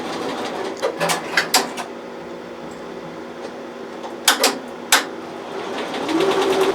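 BAi Vision embroidery machine stitches with a low steady mechanical hum, broken by several sharp clacking bursts at irregular intervals, close and fairly quiet.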